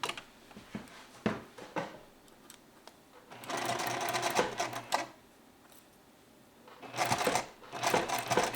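Sewing machine stitching a rounded shirt collar band in a dressmaking class, rapid mechanical chattering in several runs separated by pauses with light handling clicks, close by and moderately loud.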